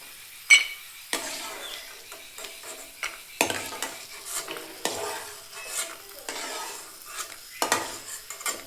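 Fried peanuts being scraped and stirred out of a hot pan into a bowl, with a series of sharp spoon-on-metal scrapes and clinks over a faint sizzle, close and fairly quiet, no talk.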